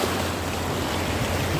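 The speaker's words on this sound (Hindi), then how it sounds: "देखो लहरें, देखो" Sea waves washing onto the shore at Mumbai make a steady, broad wash of surf with a low rumble underneath, close and continuous throughout the short stretch.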